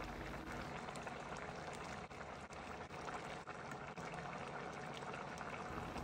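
Water for chicken pulao rice bubbles uncovered in a pot over a high flame, making a continuous, faint hissing and bubbling texture with occasional small pops and no voices.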